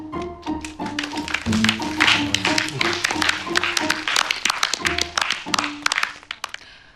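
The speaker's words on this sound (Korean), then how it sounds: "윤유래 기자에게 박수 쳐주세요." An audience claps for a reporter at a staged press event, a dense burst of irregular hand claps that swells and fades over a steady musical backing.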